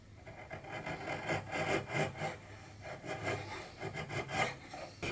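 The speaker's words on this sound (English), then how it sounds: "Some parts of the curve were too tight for the spoke shave, so here I used a rasp" A rasp files along the curve of a wooden cabriole chair leg in a rhythmic series of soft, close rasping strokes, each a brief scraping burst, with no talking.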